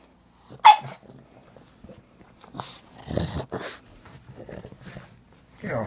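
A pug makes odd grunting, whimpering and snorting noises while being scratched on its rump. The noises come close in short irregular bursts with quiet pauses between them.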